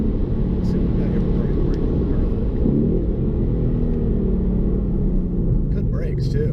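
A Ford Mustang with a 2.3-litre turbocharged four-cylinder engine pulls hard on a test drive, its engine and road noise forming a loud, steady rumble from inside the cabin.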